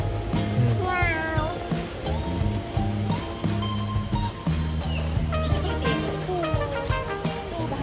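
A cat meows at a zoo in Johor, its cries rising over a busy, noisy background with steady low hum and overlapping voices throughout.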